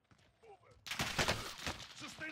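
A burst of rapid gunfire in a video game erupts after a moment of quiet voices, loud and close, continuing in bursts to the end.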